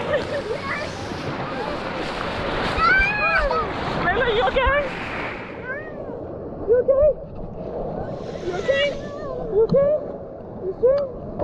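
Waves wash and splash continuously while several voices talk and exclaim over them, with bursts of water surging louder at moments.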